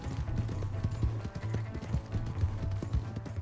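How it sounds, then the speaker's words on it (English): Horse hooves pound in a fast, steady gallop in Red Dead Redemption 2, a rapid drumming rhythm that runs the whole time at moderate loudness with no talking over it. "He has got a fast horse."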